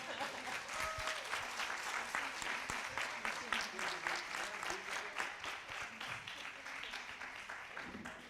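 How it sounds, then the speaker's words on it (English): Audience applause at a national workshop, a dense burst of many hands clapping that sustains steadily throughout with rapid, rippling claps and no break. "I think she deserves the biggest round of applause."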